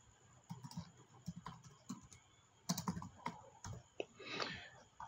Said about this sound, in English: I'll duplicate the layer by pressing Ctrl D on my keyboard